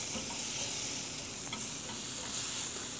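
Chopped green tomatoes or apples sauté in a hot pan, giving a steady, even sizzle that holds at a constant level throughout, close and with no voices.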